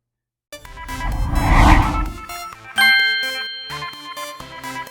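A notification bell sound effect rings out after a moment of silence: a swelling shimmering chime, then a bright sustained ding followed by several shorter tinkling tones that fade away.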